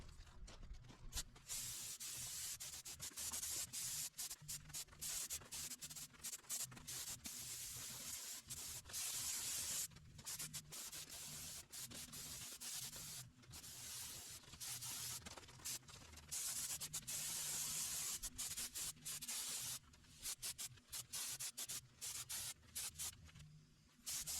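A continuous hiss of spray painting epoxy primer, pulsing on and off in short bursts as the gun is triggered, fairly close and steady throughout.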